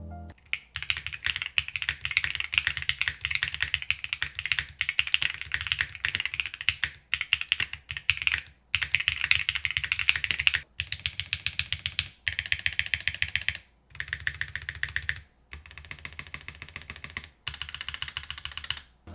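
Stock, unlubricated Hall effect keyboard switches typed on in rapid bursts of crisp clacking keystrokes with short pauses between runs, close and clear with no talking.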